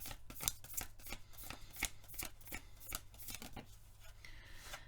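A deck of tarot cards being shuffled close by, a rapid run of soft riffling snaps and slides repeating unevenly throughout, fairly quiet and with no speech.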